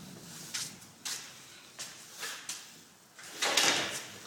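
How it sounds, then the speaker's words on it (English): A door in an older house is shut during a walkthrough, giving several soft thuds and latch clicks spread across a few seconds, with a louder, fuller bump near the end; no talking. "Close the door."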